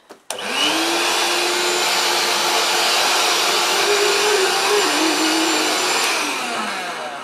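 A 1980s Moulinex Petivac hand-held vacuum cleaner switches on with a click and runs close and loud, a steady whining motor drone with a slight pitch wobble, alone without talk.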